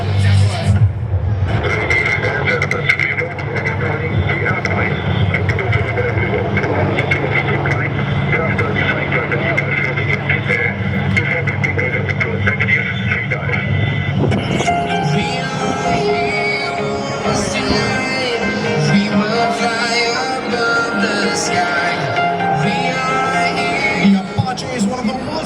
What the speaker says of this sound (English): This versatile helicopter has proven its worth in many missions and domains.